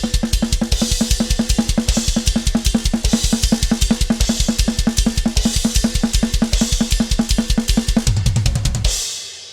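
Live drum kit playing a fast blast beat with rapid double kick, recorded for a band's EP and played back from a multitrack session; dense, loud, relentless hits with cymbal wash throughout, stopping abruptly near the end.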